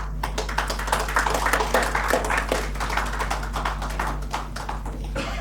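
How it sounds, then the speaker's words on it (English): Sparse, low-energy applause from an audience at an NGO meet-up in Goa: a thin patter of scattered hand claps that stays fairly even over a low steady hum in the hall. "This was a low energy clap."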